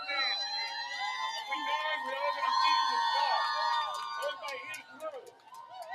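Dense, cheerful murmur of a huge crowd at the Salt Lake City, Utah Pride Parade, with whistles and high chirping tones. Voices carry throughout and a person talks over the crowd noise.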